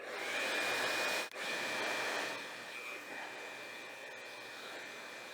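Ceramic ionic hair dryer blowing steadily with a constant whirring rush and a faint high whine, easing slightly softer after a brief dip, no voices.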